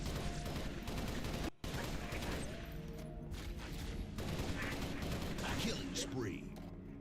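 Heavy assault rifle fire from the Halo video game, with dense sustained gunshots and mechanical clatter filling the clip, briefly broken by a short gap, with a voice talking over it.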